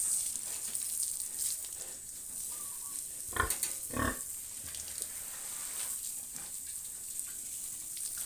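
Pregnant breeding sows grunt in a pen. Two low, short grunts stand out midway over a steady hiss and faint background noise from the barn.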